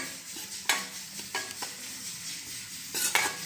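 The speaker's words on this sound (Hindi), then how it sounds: "ये देखें, हल्की आंच पे हम इसे हल्का सा भूनेंगे" Coconut roasts on low heat in a wok (kadai) for halwa, a faint soft sizzle underneath a few light scraping stirs of a spoon against the pan, with no talking.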